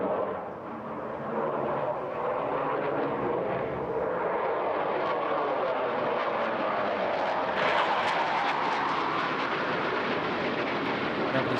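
Delta-wing canard jet fighter flying a display at Bournemouth Air Festival, a loud continuous roaring jet wash that swells slightly near the end, heard at a distance over open air.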